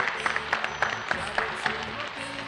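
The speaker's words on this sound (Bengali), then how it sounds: "তাহলে জোরে হাততালি হয়ে যাক মৌমিতা বৌদির জন্য।" Applause from a Bengali game show studio audience, a steady burst of clapping with crowd noise and some voices mixed underneath, moderately loud throughout.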